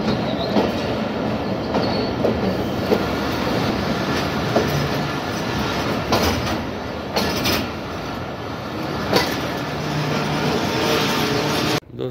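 A Pakistan Railways trial train rolls into Quetta railway station with a loud, steady rumble, rhythmic wheel clatter and occasional brake squeals, close and continuous until it stops abruptly at the end.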